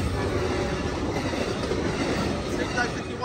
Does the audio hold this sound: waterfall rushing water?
no